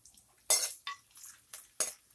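Cashews, almonds and raisins stirred in a pan with a spoon while frying, heard as a few sharp metallic clinks and scrapes spaced apart, fairly close, with no one speaking.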